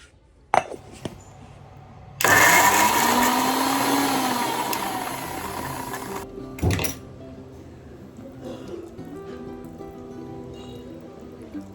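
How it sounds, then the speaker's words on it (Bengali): An electric mixer grinder whirs loudly for about four seconds as it grinds ginger and green chilli into paste, framed by clinks of a jar and lid before and after, with some faint background sounds. "আদা কাঁচা লঙ্কা আগে এটা পেস্ট করবো আলাদা করে"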